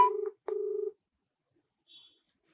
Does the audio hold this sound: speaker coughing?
no